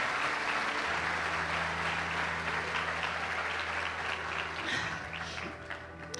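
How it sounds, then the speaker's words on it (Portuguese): A church congregation applauds in praise of God, a dense wash of clapping with a low sustained musical hum beneath, fading slightly near the end. "Aplauda o Senhor"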